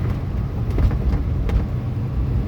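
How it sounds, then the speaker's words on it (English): A 1966 Corvette Roadster cruising in fourth gear on a rural road, its engine and road noise giving a steady, loud low rumble from inside the car with no voices. "We're cruising along in fourth."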